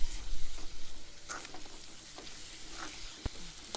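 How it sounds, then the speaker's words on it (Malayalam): A spoon scrapes and stirs egg curry masala with tomato in a hot pan, faint sizzling beneath occasional sharp scrapes and one crisp utensil knock, with no talking. "വീണ്ടും നന്നായിട്ട് ഇളക്കുക."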